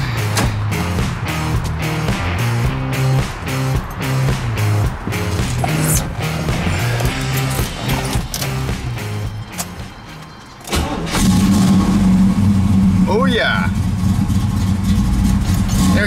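A 1973 Chevrolet Camaro Z28 V8 runs with a loud, lumpy idle, briefly quiets, then is restarted with the key and settles into a deep, rumbling idle close by.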